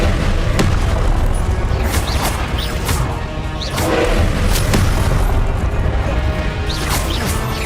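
Loud, continuous magical spell effects with repeated sharp crashing bursts and whooshing impacts, the Expelliarmus disarming spell blasting several times over a dense rumbling background.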